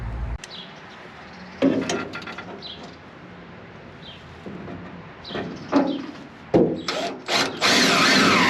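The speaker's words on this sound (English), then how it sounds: "I'm going to drill that in there" A power drill drives into a car during a front-end teardown, with short whirring bursts and ratcheting clicks separated by pauses, loud and close, growing denser toward the end.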